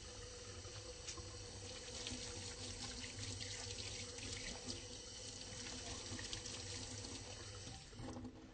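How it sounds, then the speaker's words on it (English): Hands being washed under a running tap at a sink before a medical examination, a steady close water stream that continues evenly throughout without speech. "I'm going to go ahead and wash my hands."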